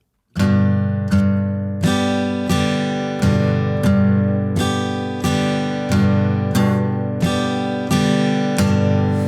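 Steady guitar strumming in a two-low, two-high pattern, about a dozen chord strokes in an even rhythm, each ringing into the next, played close with no voices.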